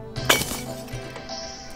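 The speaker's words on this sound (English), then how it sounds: "So that's just smashing the glass wall in." A glass wall smashes in the video game Terraria, a single sharp crash with brief tinkling fragments, followed by quieter game sounds and a short high tone.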